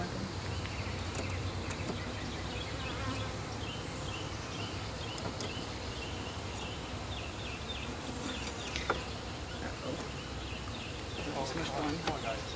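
Honeybees swarm around a newly installed beehive, a continuous dense buzzing close by with individual bees zipping past, under occasional quiet talk.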